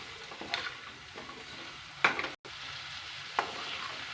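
Drumstick (moringa) pieces being stirred with salt in a pan, giving a soft, steady sizzle with a few sharper scraping strokes and a brief dropout midway, no voices.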